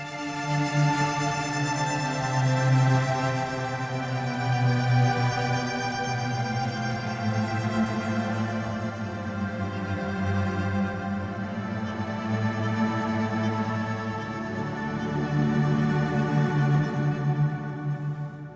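A lush, sustained sampled cello pad layered with synthesizer warmth and a long reverb wash, slowly shifting chords swelling and fading without any talking.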